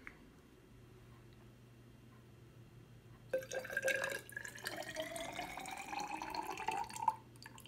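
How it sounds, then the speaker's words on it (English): Water pours into coloured alcohol in a measuring cylinder, starting after a quiet pause as a faint, close trickle and splash with rising gurgling tones that ends with a final drip. "So I'm going to add the water to the alcohol."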